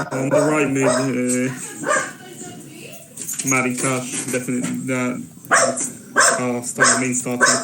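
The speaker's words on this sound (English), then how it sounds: "I'm sorry for the dog." A dog barks repeatedly in bursts near someone talking about football, the yelps and woofs cutting in over and between his speech.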